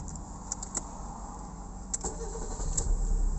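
A 1993 Fiat Panda Selecta 1.1 with ECVT automatic gearbox turns over and catches in neutral, settling into a low steady idle, with a few small clicks and jingles near the start.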